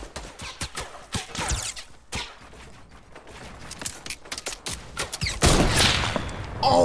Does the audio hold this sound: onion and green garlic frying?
no